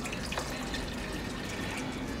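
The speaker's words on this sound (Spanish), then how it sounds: "Le voy a poner taza y media de agua." Water running steadily into a pot, a cup and a half of water added for a honey syrup with panela, close and continuous with no talk over it.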